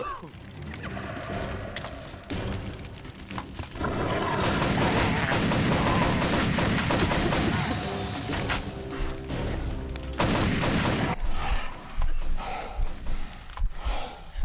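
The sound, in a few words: gunfire from Cabela's Dangerous Hunts 2011 video game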